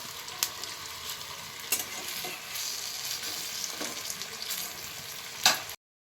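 Drumstick flower fritters with poppy seeds frying in a pan, a constant crackling sizzle broken by a few sharp taps and scrapes, close by.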